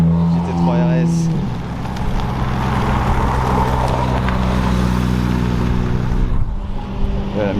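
A Lamborghini Murciélago passes at a car event, its engine a loud, continuous roar with a steady low rumble, a brief rising rev early on and a changing tone near the end as it goes by, with people talking over it.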